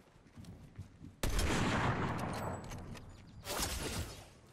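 Gunfire in a Fortnite Chapter 5 match: a loud sustained burst of shots kicks in suddenly and keeps going, then surges again toward the end, with no talk over it.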